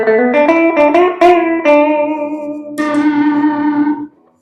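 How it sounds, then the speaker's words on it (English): Electric guitar played through a Notadumble overdrive pedal with a warm, tube-like overdrive: a run of picked notes and chords, then a sustained chord ringing out and cut off, with no talking. "Sweet overdrive, huh?"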